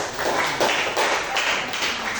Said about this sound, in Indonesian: sekali lagi tepuk tangan untuk kelompok Kalimantan Selatan